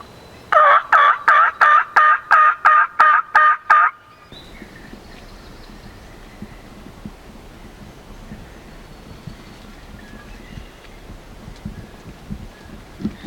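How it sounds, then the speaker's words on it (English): A wild turkey gobbles once in the Ohio woods: one loud, close, rapid rattling burst of about nine pulses. Quiet woodland ambience with faint rustling follows. "he gobbled once in the woods"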